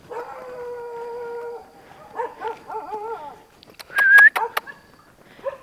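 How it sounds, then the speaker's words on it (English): Dogs howl nearby in a village setting in Sumatra, Indonesia: long, wavering howls overlapping at first, then shorter yips and a sharp burst of yelps near the end. "Dogs."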